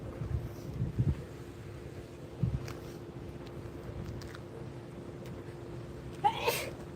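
A person sneezes once near the end, loud and close, after quieter rustling over a low steady background hum.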